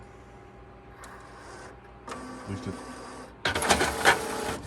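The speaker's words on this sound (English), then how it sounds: "So the printer's getting ready to print." A Sawgrass SG800 sublimation printer starts a print job, giving whirring and ticking mechanical bursts that build to a louder, busier stretch near the end, with a brief spoken word over it.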